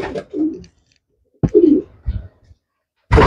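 Close pigeon cooing from a Pune-bred racing pigeon, several soft low throaty coos in short separated bursts with quiet gaps between, loud and near.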